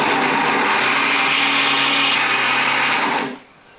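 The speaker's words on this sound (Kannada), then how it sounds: "ನಾ ಮಸಾಲೆ ಏನು ರುಬ್ಬಿಟ್ಟಿದ್ನಲ್ಲ ರಗಳೆ ಅದೇ ಮಿಕ್ಸಿ ಜಾರ್ ತೊಗೊಂಡಿನಿ ನೋಡಿರಿ." A small mixer grinder jar whirs steadily at high speed while grinding masala spices, a loud continuous motorized drone that cuts off abruptly near the end.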